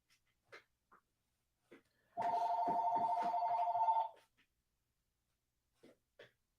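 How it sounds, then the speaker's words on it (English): Telephone ringing once, a single loud electronic trill lasting about two seconds, surrounded by faint scattered small noises in an otherwise quiet room. "Of course, the phone rings."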